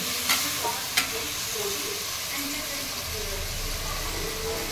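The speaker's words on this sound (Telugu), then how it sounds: "10 minutes తర్వాత అయితే మళ్ళీ కలపాలి." Chicken curry frying in a pot, Telangana style, with a continuous loud sizzle and scraping stir, a couple of sharp clinks of the spoon against the metal early on.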